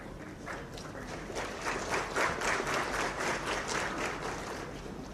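Applause from a crowd at a college graduation ceremony in Coimbatore, a steady patter of many hands at moderate distance that swells slightly and holds for several seconds.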